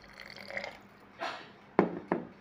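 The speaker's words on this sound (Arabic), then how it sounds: "ابدا احط له بقى ايه نص كوبايه ميه" Water glugs and splashes into a glass jar in short bursts, with a few sharp drips and pours, close by and fairly quiet.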